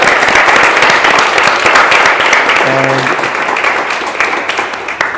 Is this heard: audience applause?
yes